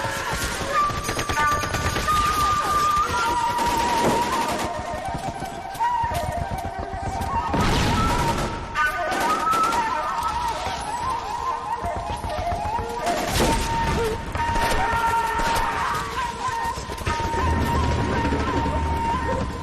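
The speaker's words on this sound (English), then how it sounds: "Mortar! Artillery." Mortar and artillery fire in a war video game, loud continuous booming blasts and crashing explosions over a dense rumbling battle bed, with distant radio-style voices under the din.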